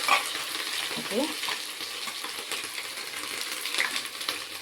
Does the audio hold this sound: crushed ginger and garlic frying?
yes